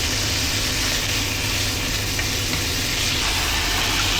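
Garlic and onions frying in a pan for Vietnamese bún bò xào give off a steady, dense sizzle that holds at an even level throughout, close and alone.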